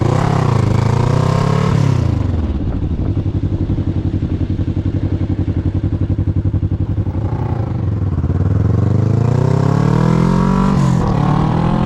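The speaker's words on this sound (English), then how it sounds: "The bike fires right up in any temperature, and the sound of the exhaust is inspiring." A Kawasaki Ninja 650R engine idles with a throbbing exhaust, revs up and falls back twice, then settles into a steady burbling putter, close and loud.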